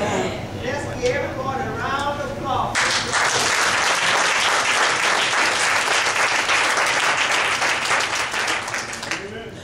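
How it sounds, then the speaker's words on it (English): Church congregation at a senior citizen program bursts into loud, sustained applause after a brief stretch of speech, the clapping dense and steady before tapering at the end. "Everybody, round of applause."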